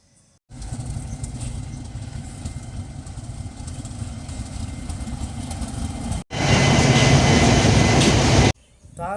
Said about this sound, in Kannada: ಇದೇ ಫ್ರೆಂಡ್ಸ್ ತಳಕು ರೈಲ್ವೆ ಸ್ಟೇಷನ್.